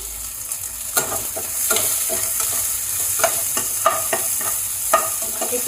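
Beans, carrots, chopped capsicum, fried cashews and raisins are stirred and fried in oil for fried rice. A continuous sizzle runs under repeated scraping strokes of a spatula against the pan, coming at an irregular rhythm and fairly close.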